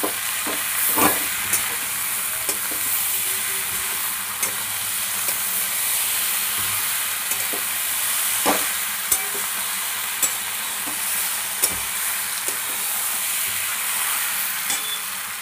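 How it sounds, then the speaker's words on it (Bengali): Ground spice paste with coriander powder is stir-fried in a pan, a continuous sizzle broken by repeated sharp clicks and scrapes of a spatula against the metal. "দিয়ে এবার ভালো করে কষিয়ে নেব।"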